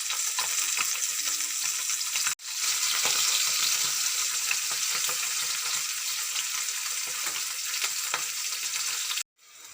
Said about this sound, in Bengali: মাছগুলো সব ভেজে নিলাম